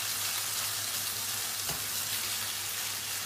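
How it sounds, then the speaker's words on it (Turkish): Minced meat sizzles steadily in a hot pan, a constant close crackle with a faint scrape of stirring partway through. "Üzerine kıymayı da ekleyip güzelce kavurmaya başlıyorum."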